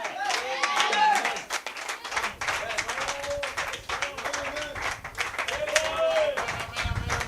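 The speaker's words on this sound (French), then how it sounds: "Donnez-lui une belle acclamation encore." A church congregation claps and cheers amid music and voices, a busy mid-level wash of hand claps with singing or shouting tones running through throughout.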